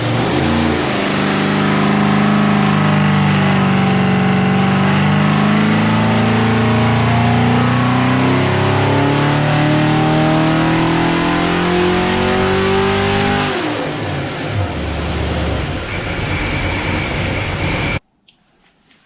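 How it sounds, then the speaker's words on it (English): A V8 fitted with new heads, a hotter cam, a dual-plane intake, an HEI distributor and a 750 Holley carburetor roars on a dyno, its pitch climbing steadily through a long loud pull before cutting off abruptly. "We threw a set of new heads, a better cam, a dual plane intake, threw an HEI distributor on it, a 750 Holley, and we threw it on the dyno"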